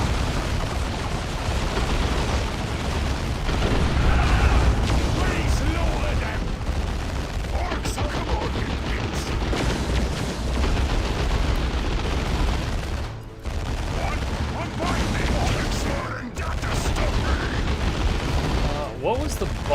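Dawn of War 2 battle with thrown bombs exploding, heavy booms and rumbling blasts mixed with steady gunfire, loud and continuous, under voices talking.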